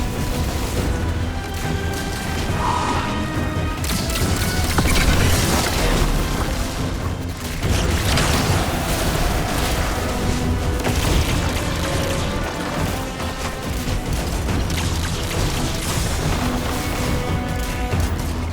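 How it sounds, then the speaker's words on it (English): Enemy gunfire in Destiny 2 rolls on as a dense, loud barrage of booms, crashes and bursts, layered and continuous throughout with only brief dips. "Shooting at me now."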